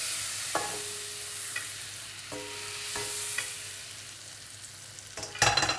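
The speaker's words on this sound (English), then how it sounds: "Gonna add my mushrooms because I can see that the pot was super hot." Mushrooms fry in butter in a very hot pot, a low steady sizzle broken by a few clinks and scrapes of a utensil against the metal, then a brief louder burst of stirring and spitting near the end.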